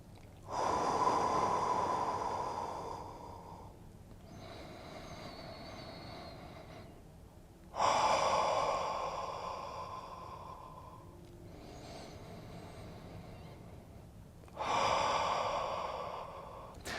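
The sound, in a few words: slow deep breathing, exhaling through the mouth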